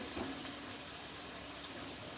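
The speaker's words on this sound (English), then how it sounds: "I'm just over at the sink taking the water out of the pot with the macaroni" Water from a pot of cooked macaroni pours and splashes steadily into a sink as it is drained, a continuous hissing gush at low volume with no voices.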